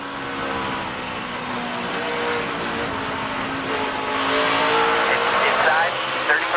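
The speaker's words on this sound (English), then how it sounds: "Let's listen to the 9 truck." NASCAR Camping World Truck Series race truck engine at the UNOH 200, a loud sustained drone that rises slightly in pitch while the truck runs the track, heard steadily throughout.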